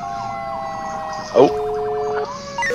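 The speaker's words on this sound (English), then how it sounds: "Somebody's sirens are on." Several emergency vehicle sirens wail together in the firefighting game Emergency 4 with the Harbor City mod, steady layered tones that rise and fall, with a short burst of louder noise in the middle and a man's brief exclamation over them.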